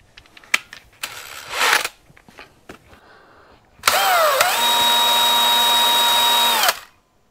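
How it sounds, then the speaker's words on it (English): Some clicks and brief rattling give way to an electric drill spinning a small wire brush, whirring steadily at high speed for about three seconds before stopping. "just chuck it up in your drill motor."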